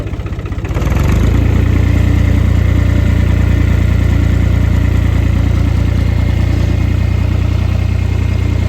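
A tractor with a broken clutch drives in first gear; its engine note rises over the first second, then settles into a loud, steady, close-up drone that holds to the end.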